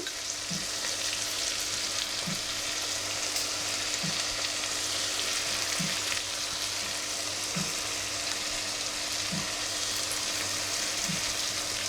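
Chili powder hitting hot oil in a pan of Andhra dried-prawn gongura curry, giving a steady, loud sizzle with a faint rhythmic knocking underneath, no voices.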